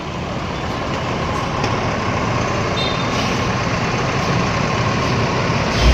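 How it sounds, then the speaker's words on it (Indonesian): Heavy engine rumble of NPM Sultan Class coaches arriving in Padang, a steady loud diesel drone with traffic noise that swells slightly toward the end. "ada 2 bus Sultan Class yang masuk pada hari ini"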